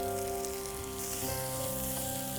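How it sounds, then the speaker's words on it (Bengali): Capsicum in three colours and sweet corn sauté in a hot pan with a steady, close sizzle and faint stirring throughout, with no talk. "একটু সটে করে সাথে দিয়ে দিব ক্যাপসিকাম তিন রকমের কালার"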